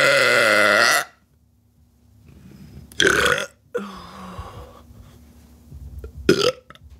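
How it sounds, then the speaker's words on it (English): A long, loud, deep burp right after chugging a can of White Claw, up close for about a second, then quieter rustling and handling noises with a couple of short bursts later. "you shotgun a White Claw and then burp really loud"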